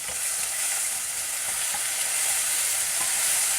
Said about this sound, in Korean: 막 소리가 지글지글하죠.